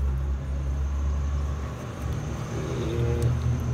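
A Maruti Alto 800 with electronic throttle idles at close range, its engine making a steady low rumble with a slight rise partway through.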